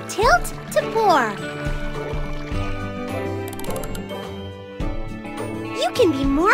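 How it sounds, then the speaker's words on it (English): Liquid glugs and gurgles as a smoothie is poured into a glass in a cartoon cooking game, bubbly pour sounds over music with voice-like tones. "Just tilt to pour."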